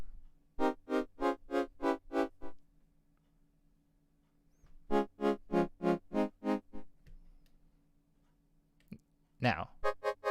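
Keyboard chords played in a studio, each swelling up and fading twice in a steady, loping rhythm, in two groups of repeated chords with a brief sweep near the end.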